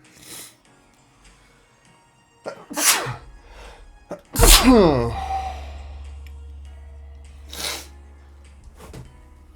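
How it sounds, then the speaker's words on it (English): A single loud sneeze bursts out mid-clip, preceded by a sharp intake of breath and followed by a lingering low hum, with a few quieter breaths around it. "Oh, I'm going to sneeze."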